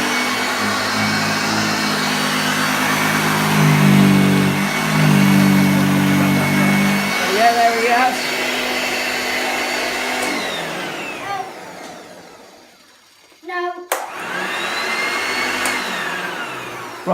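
A restored 1969 Hoover Junior 1354 upright vacuum cleaner runs with a loud, steady motor drone, briefly cutting out and dropping nearly silent before starting up again and whirring steadily.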